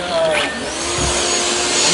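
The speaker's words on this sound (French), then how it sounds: "Là, ça, c'est l'aspirateur qui va se mettre en route." A dust-extraction vacuum on a Hitachi HEPA-filter electropneumatic hammer drill runs up on concrete with a loud, steady whooshing roar and a rising whine, close by, as people speak over it.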